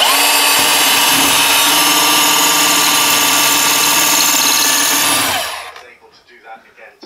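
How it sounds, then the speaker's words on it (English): A loud power drill whirs steadily for about five seconds, then cuts off and winds down, leaving near-silence with faint room noise. "That's how powerful the drill needs to be"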